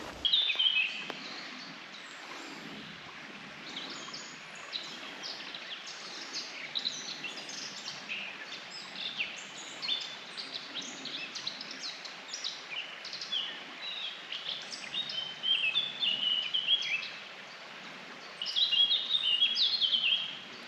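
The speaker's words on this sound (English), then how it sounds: "That bird there is the Eurasian black-capped singing its song." Eurasian blackcap singing in deep woods beside a river, bright warbling phrases and chirps recurring throughout at moderate distance, louder bursts toward the end over a soft outdoor background.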